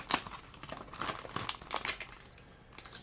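Plastic packaging of a Ford Transit MK2 model kit crinkles and crackles up close as it is pulled open, a series of irregular bursts over about three seconds.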